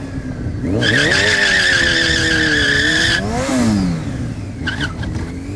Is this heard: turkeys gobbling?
no